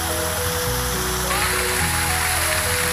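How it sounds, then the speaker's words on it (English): A fountain sprays water into Lake George with a steady, close hiss and splash, a continuous rush of falling water under some faint background tones. "Oh, a really nice fountain going into, what lake is this, Logan?"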